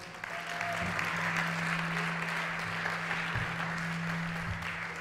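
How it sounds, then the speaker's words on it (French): A church congregation applauds its worship band, broad and steady clapping that fills the room at moderate volume, with a low hum running beneath it. "Merci beaucoup au groupe de louanges qu'on peut applaudir bien, bien fort"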